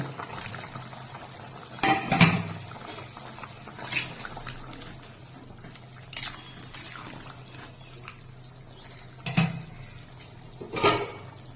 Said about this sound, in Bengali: এবার ঢাকনা দিয়ে ঝোল ভালো করে ফুটে নেব